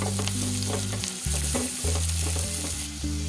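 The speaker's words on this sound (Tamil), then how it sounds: "அதையும் இதோட சேர்த்துட்டு ரெண்டுத்தையும் நம்ம வந்து நல்லா வதக்கி விட்டுடலாம்" Onions and garlic sautéing in a pan for brinjal kara kuzhambu, with a steady frying sizzle and a few scraping stirs, loud and close, under a sustained low hum with no talk.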